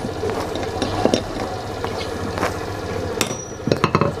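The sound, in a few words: hammer pounding stiff pliers on a steel shaft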